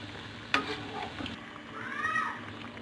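Bread pakora fries in hot oil at a Lahore street food stall, a steady soft sizzle with a sharp clink early on and faint background activity.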